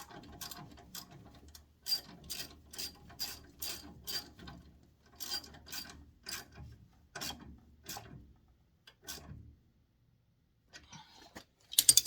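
A hand ratchet clicks in quick bursts while tightening a bolt on a Honda Civic front knuckle, close and fairly quiet, with short pauses between strokes before falling silent.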